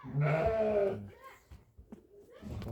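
A sheep lets out a single loud, wavering bleat close by, followed by quieter shuffling and faint animal sounds.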